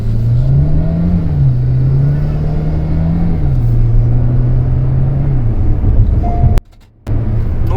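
Hyundai Creta 1.4 turbo petrol DCT accelerating hard on an open road: a steady, loud engine drone that rises and shifts pitch, cut by a brief gear-change dip near the end before pulling on.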